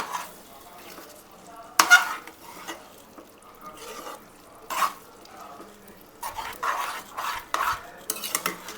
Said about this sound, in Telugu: రొయ్యల కూర కలిపేసుకుందాం ఒకసారి